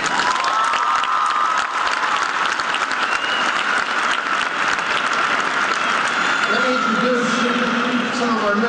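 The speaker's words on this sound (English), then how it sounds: "Please give them a round of applause." Graduation audience at a high school commencement applauds loudly and steadily throughout, a dense wash of clapping from a large crowd, with a voice speaking over it near the end.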